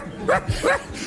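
A person's voice imitates a dog barking, giving a few short, loud, close woofs and yips with brief gaps between them.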